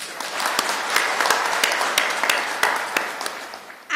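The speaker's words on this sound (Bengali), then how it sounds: "এই হাততালি আপনাদের প্রাপ্য।" An audience applauds police members at a government event in Bangladesh, with steady, dense clapping that holds loud throughout and stands alone without talk.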